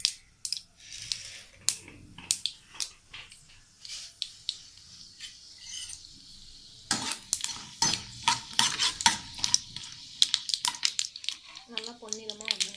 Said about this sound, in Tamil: வெங்காயம் பச்சை மிளகாய் பூண்டு கருவேப்பிலை எல்லாத்தையும் போட்டு நல்லா வதக்கணும்.